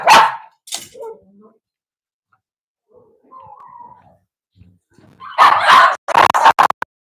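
A Cavalier dog barks in sharp bursts, one near the start and a cluster near the end, with quiet stretches and faint sounds between.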